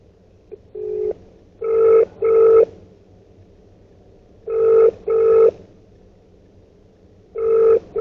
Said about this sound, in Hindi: तो चलिए फटाफट से कस्टमर को फोन करते हैं।